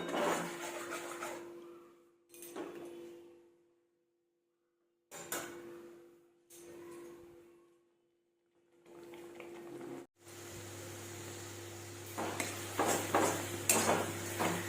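Spice paste for jackfruit curry being stirred and scraped in a pan, with rough rubbing strokes in bursts separated by pauses, then a steadier sizzling bubble with a low hum underneath toward the end.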